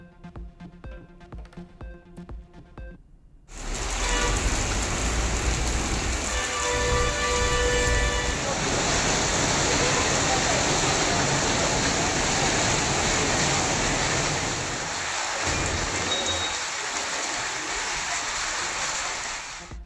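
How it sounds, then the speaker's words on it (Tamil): Widespread rain across parts of Tamil Nadu pours in a dense, loud, steady wash that starts abruptly after a few seconds of quieter, tonal sound and then continues without a break. "தமிழகத்தின் பல்வேறு பகுதிகளில் பரவலாக பெய்த மழை"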